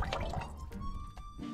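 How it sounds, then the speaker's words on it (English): Tomato sauce poured into a cooking pot at a Big Bend campsite makes brief, close wet glugs and drips over a second and a half, with no voices. "some tomato sauce"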